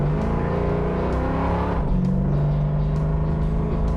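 A Mustang's engine rumbles steadily up close as it pulls away on a test drive, pitch shifting midway as it gears up, loud and continuous without talk.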